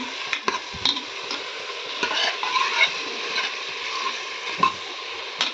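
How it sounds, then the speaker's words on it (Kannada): Tomatoes frying in a pan for sambar are stirred with a spoon, a close crackling sizzle broken by several scraping and knocking strokes. "ಟೊಮೆಟೊನ ಚೆನ್ನಾಗಿ ಫ್ರೈ ಮಾಡ್ಕೋಬೇಕು"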